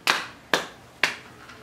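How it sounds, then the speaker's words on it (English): Three sharp, evenly spaced hand claps ring out close and clear, followed by a fainter fourth, with no talking over them. "Clap your hand."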